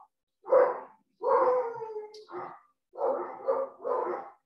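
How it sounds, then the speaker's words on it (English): Dogs bark outside in a few separate bursts with short pauses between them, faint and somewhat muffled at a distance, with no talk over them. "my dogs are getting a little agitated outside"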